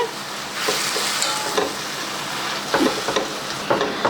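Gongura leaves fry and get stirred in hot oil, giving a steady close sizzle with scraping strokes of a spoon against the pan recurring throughout.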